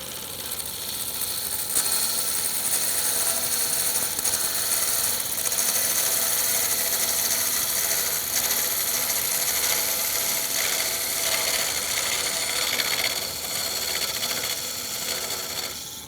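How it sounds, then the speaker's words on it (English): A parting tool cuts into a wooden workpiece spinning on a lathe, giving a continuous bright scraping hiss with steady motor hum underneath, loud and close throughout. "I'll use a parting tool to remove most of this waste"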